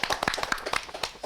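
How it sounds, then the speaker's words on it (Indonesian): Several people clap by hand in a quick, uneven patter during a podcast conversation, moderately close and fairly soft, lasting just over a second with no talking over it. "tepuk tangan."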